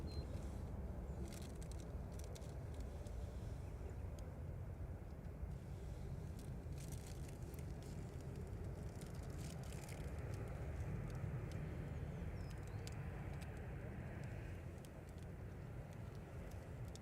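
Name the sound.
Ryanair Boeing 737-800 touching down at Manchester Airport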